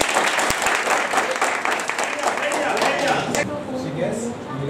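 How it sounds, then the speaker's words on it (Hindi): A group claps a round of applause at an inter-state youth exchange programme event, steady dense clapping throughout with voices talking over it. "एक ताली दे दो"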